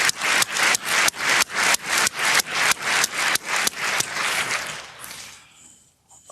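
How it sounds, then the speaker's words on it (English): Lecture audience applauding students, a series of rhythmic clap bursts repeating at a steady pace for about five seconds before fading away into quiet. "All right, applause for the students."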